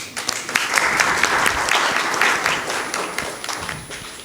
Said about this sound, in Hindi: इस कॉन्वोकेशन के अनाउंसमेंट में तालियां तो होनी चाहिए